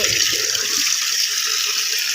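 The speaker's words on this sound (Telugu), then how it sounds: "చూడండి ఇలా నీటిలో శుభ్రంగా కూర కడిగేసుకొని" Amaranth leaves being washed in water, giving a steady broadband splashing, running-water wash that stays fairly loud and continuous throughout, with no voices.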